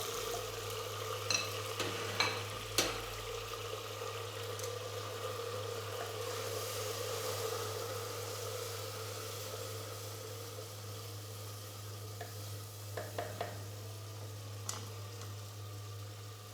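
Chopped tomatoes sizzle in a pan of browned onions for an Aloo Choliya chickpea curry, a steady soft frying hiss with occasional scraping clicks of stirring over a constant low hum.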